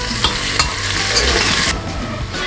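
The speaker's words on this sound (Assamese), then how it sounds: "আদা নহৰুখিনি মই 2 মিনিট মই ভাজি ললো" Crushed ginger and garlic paste sizzles steadily in a hot pan while a spoon stirs it with a few quick scraping strokes, close and fairly loud.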